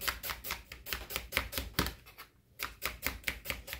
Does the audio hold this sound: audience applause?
no